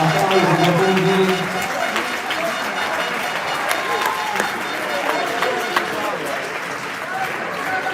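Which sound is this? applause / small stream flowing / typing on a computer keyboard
applause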